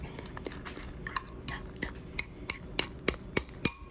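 A metal utensil stirs hot salsa in a bowl, producing repeated light clinks and scrapes against the dish in an irregular rhythm, close and fairly quiet with no talking.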